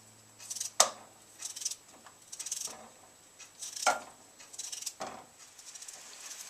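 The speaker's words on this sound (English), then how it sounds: "go ahead and start slicing up the potato. Thin slices is good." Potatoes being thinly sliced with a knife for scalloped potatoes, a run of sharp, close cuts and clicks in an irregular rhythm, fairly quiet with short pauses between strokes.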